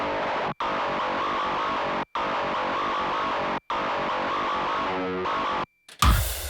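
A lo-fi, fuzz-distorted metalcore drum intro, thick and saturated, cut by three brief dropouts before a harsher burst at the end.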